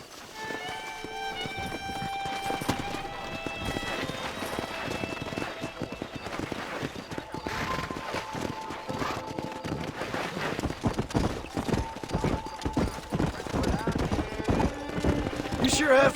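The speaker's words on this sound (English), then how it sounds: "Let's see if we can't wrangle some horses." Horses gallop through the video game Red Dead Redemption, with rapid hoofbeats pounding steadily and growing louder, a horse whinnying at times, under game music and characters talking.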